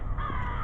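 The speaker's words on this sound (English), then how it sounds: "There's a crow up there somewhere cawing at us." A single crow caws harshly once, fairly near, outdoors on a campus with low background rumble.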